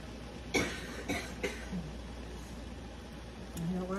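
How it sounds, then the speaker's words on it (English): A person with COPD coughs a few times in short, sharp bursts indoors while canning jalapenos, moderately close, with quiet pauses between the coughs. "My COPD makes me cough a lot."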